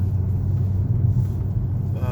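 Low, steady engine and road rumble from inside a 2003 VW Passat W8 4Motion sport-suspension sedan on the move, loud and continuous, with faint tyre hiss.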